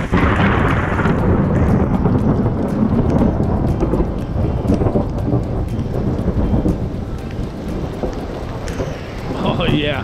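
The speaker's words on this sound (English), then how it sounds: "Yeah, we got thunderstorms out here." A thunderstorm in Tombstone with heavy rain and hail pounding outdoors, a dense loud roar with deep thunder rumbling underneath, steady throughout and close by.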